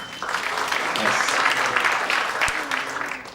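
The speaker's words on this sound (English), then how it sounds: "Round of applause, married couples." Comedy show audience at a performing arts center bursts into sustained applause with cheering for married couples, a dense crowd roar lasting the whole stretch.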